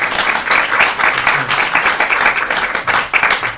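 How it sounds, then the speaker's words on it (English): An audience gives a big round of applause to welcome a professor, dense steady clapping close and loud throughout. "give him a big round of applause"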